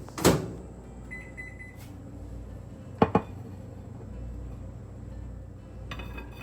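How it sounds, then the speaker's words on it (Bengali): A kitchen microwave oven is heating a sandwich. A steady low hum runs throughout, with a short beep near the start and a couple of sharp clicks or clunks midway, like the door or turntable. "আর এখন এটাকে আমি ওই 30 সেকেন্ডের জন্য মাইক্রোওয়েভ করব।"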